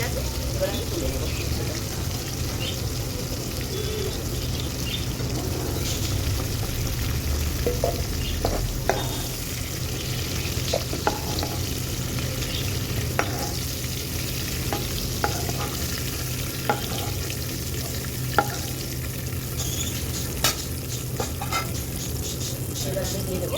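Bitter gourd frying in oil in a pan in a home kitchen, a steady continuous sizzle with occasional scraping and tapping of the stirring spoon.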